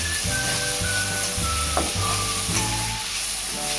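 Tomatoes and onions, salted, sauté in a pan with a continuous bright sizzle. Low, regular tonal humming and a few brief clinks sit underneath, with no voices.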